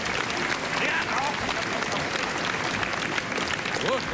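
A theatre audience at a magic show claps for a volunteer called onto the stage, producing dense, sustained applause that fills the room at steady loudness.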